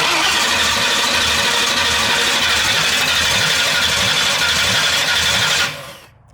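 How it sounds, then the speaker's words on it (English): A Ford Bronco engine firing up for the first time in a decade, loud and close, with a rough, rumbling idle running steadily before cutting off abruptly near the end. "Okay, so we're gonna start it up, see if anything leaks."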